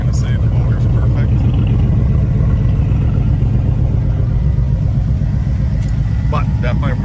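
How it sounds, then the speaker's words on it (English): A Ford Bronco project truck's engine runs a little rough at steady idle, a loud continuous low rumble throughout with no revving, while a person talks over it. "Runs a little rough. I'm not going to say the motor's perfect."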